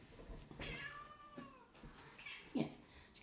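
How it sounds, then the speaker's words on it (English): A domestic cat meows indoors, one drawn-out, rising call followed by a shorter, sharper meow, both fairly quiet and close, with no talking. "What are you meowing about?"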